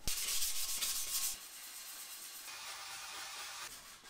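Bondo filler on a car wheel is sanded by hand with 320 grit sandpaper, giving a close, steady, hissy rubbing with strokes of shifting intensity and no voices.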